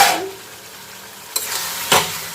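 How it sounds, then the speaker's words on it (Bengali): Prawns are stir-fried in a spicy curry masala, with bursts of sizzling and the scrape of stirring in the pan, two sharp strokes standing out over a low steady fry, close and loud. "এবার চিংড়ি মাছগুলো দিয়ে কষাবো"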